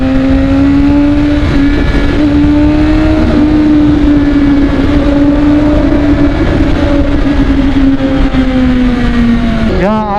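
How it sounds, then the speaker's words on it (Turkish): A motorcycle exhaust roars under sustained revving, loud and near, the pitch swelling and easing across a long pull before a sharp final blip at the end. "Bir egzoz inletelim."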